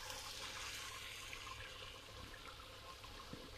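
A pot of Spätzle water boiling over on the stove, steady close hissing and bubbling that fills the whole moment without pause.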